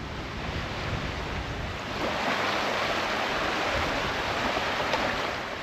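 Strong wind buffets the microphone over choppy loch water lapping and splashing around a tiny island on Loch Lomond, Scotland, a steady, broad rushing roar that thickens partway through, with no voices.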